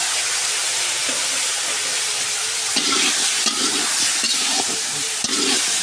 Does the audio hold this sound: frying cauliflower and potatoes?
yes